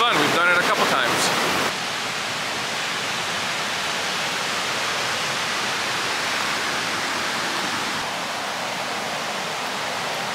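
Bog River Falls pours in a steady, loud, broadband rush of cascading water, continuous and close, with a brief burst of voices and clatter at the very start before the roar carries on alone.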